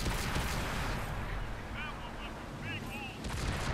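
Tank cannon fire from a British HMS TOG II heavy tank in World of Tanks console, a loud sustained booming blast filling the clip with rumbling battle noise.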